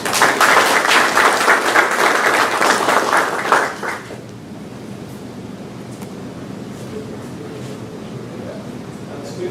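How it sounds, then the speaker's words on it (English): School board meeting audience giving a round of applause, a loud burst of many hands lasting about four seconds, then dropping to quiet room noise with faint murmuring. "Give them another round of applause."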